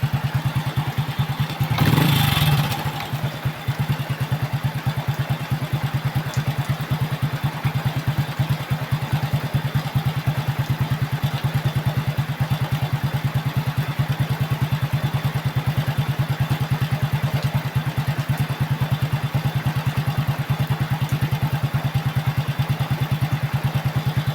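A repaired Honda XRM motorcycle engine running steadily at idle nearby, a continuous loud mechanical drone with a brief louder burst near the start and no talking.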